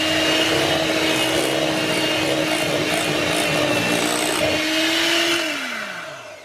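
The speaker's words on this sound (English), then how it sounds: "And now we'll just blend it until it's smooth and creamy." A kitchen blender whirs steadily, blending a low-carb lemon mousse until smooth, a loud constant motor hum that winds down and stops near the end.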